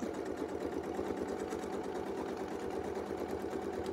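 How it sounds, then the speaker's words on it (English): A sewing machine runs steadily during free-motion quilting, its rapid mechanical stitching rattle continuing evenly throughout without pause. "try to keep your sound of your machine nice and even"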